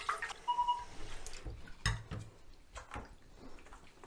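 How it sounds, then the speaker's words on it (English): Water splashes and drips as film developing equipment is rinsed, with scattered clinks of containers against a sink, close and fairly quiet with no talk. "You can also rinse these off."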